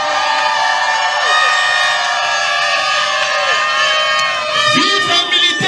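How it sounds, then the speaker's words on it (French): Crowd at a school event cheering and shouting for soldiers, a loud, sustained wash of voices with whoops and children's shouts, swelling again near the end. "Est-ce qu'on peut les applaudir,"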